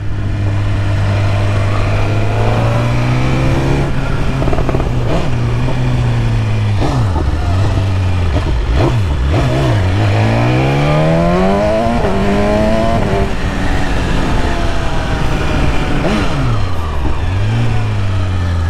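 A 2022 BMW S 1000 RR motorcycle with an Atalla stainless steel 304 exhaust header, close and loud, revving hard through repeated rising gear pulls with sharp drops between shifts, engine alone without talk.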